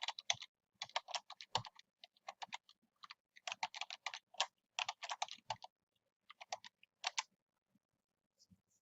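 Computer keyboard keys tapped in quick irregular bursts as a password is entered during a server install in VirtualBox, close and fairly quiet, with short pauses between runs of keystrokes.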